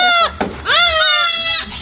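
A baby goat bleats loudly and close by at an exotic animal ranch, giving two wavering cries, a short one and then a longer drawn-out one, with no talk over them.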